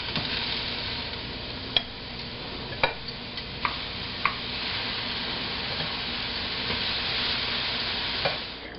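Scallops sear in a pan with a steady, soft sizzle, broken by a few sharp ticks and pops that come close to one another at an irregular pace. No one speaks.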